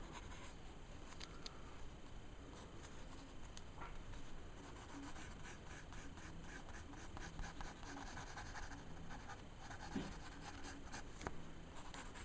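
Pencil sketching on paper, with quick, loose scratchy strokes that continue steadily at close range; the sound is quiet and there is no talk.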